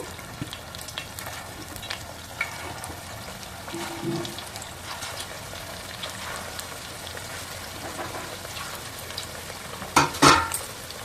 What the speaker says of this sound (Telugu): బాగా వేగనిద్దాం.